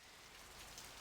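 Rain falling in the Blade Runner video game, a faint, even patter of drops on surfaces with no other sounds.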